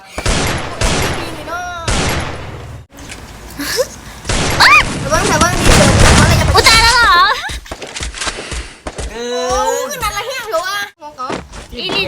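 Bursts of gunfire crackle in a shooting video game, loud and rapid, while someone speaks excitedly over the shots.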